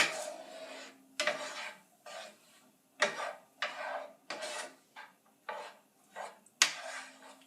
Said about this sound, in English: So keep stirring.